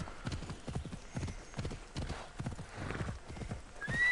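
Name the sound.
horse hooves galloping in Assassin's Creed Odyssey video game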